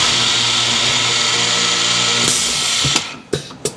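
A power drill bores holes in cherry cabinet parts, running loud and steady for a few seconds before it stops and a couple of sharp knocks follow as the clamps and workpiece are handled.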